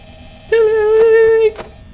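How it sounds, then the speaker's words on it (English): Telephone ring in the Five Nights at Freddy's video game: a single loud electronic ring tone held for about a second, followed by a brief click, with no speech over it. "Oh! We got a phone call. Ain't that nice?"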